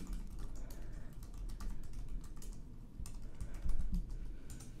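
Rapid, uneven keystrokes on a computer keyboard as someone types login details, close and steady with a brief heavier clack cluster near the end.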